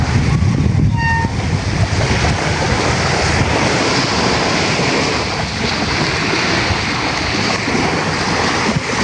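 Sea waves roll in at the shore beside a resort, a constant roaring wash of surf mixed with wind buffeting the microphone, loud and continuous throughout with no voices.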